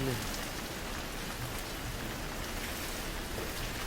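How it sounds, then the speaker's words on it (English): Steady rain in the village-building video game Villagers, a dense, even hiss of drops on surfaces that holds at the same loudness throughout, with no other sound standing out. "A little more rain."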